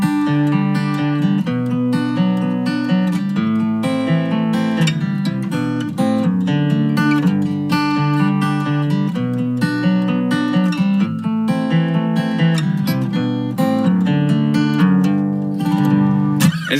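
Fingerpicked acoustic guitar plays the opening line of a song, a steady stream of close, clear plucked notes with a bass pattern under the melody, played alone and evenly for the whole stretch.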